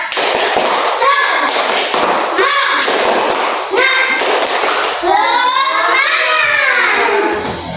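A class of schoolchildren performs a rhythmic clapping routine, with sharp claps in a regular beat about once a second while young voices chant along loudly, ending in a drawn-out group shout.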